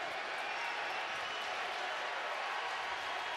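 Broad steady crowd roar and clapping from baseball fans in the stands at the College World Series finals between Mississippi State and Vanderbilt, a dense wash of cheering sustained through the whole stretch at moderate loudness.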